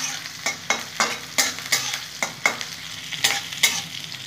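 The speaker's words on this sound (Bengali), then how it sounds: "আর পেঁয়াজগুলো দিয়ে দেবো। এটাও ভালো ভেজে নেব।" Onions are stirred in a hot frying pan for a leafy greens dish, close and loud, with a regular rhythm of about a dozen sharp scraping sizzle bursts from the spatula over a steady hiss.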